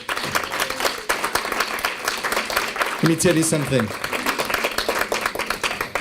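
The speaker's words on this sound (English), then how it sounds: "give a round of applause" An audience applauds at an art event, a steady dense patter of clapping that continues throughout while someone speaks over it and other voices chatter.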